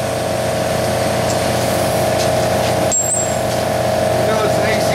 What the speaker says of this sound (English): So I need the air chisel for that.